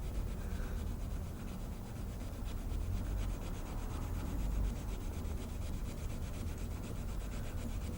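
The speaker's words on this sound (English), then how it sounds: "It is rewarding to see them disappear just sanding by hand" A knife blade is sanded by hand in steady, continuous rubbing strokes, a close, even abrasive scratching with no talk.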